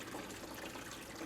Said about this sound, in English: I just crank this thing up, you know, almost full blast and just really get the water violently moving through it.